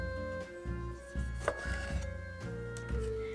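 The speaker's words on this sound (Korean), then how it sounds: "방울토마토는 반으로 잘라서 먹기 좋게 해주세요" A knife halves cherry tomatoes on a board, producing a handful of soft, separate cutting taps spaced unevenly at close range, quiet beneath a steady tonal background hum, with no voices.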